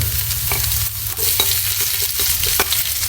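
Onion sautéing in a hot pan for adobo sa gata, a close steady sizzle broken by several sharp scrapes and clinks of a spatula stirring, with no speech.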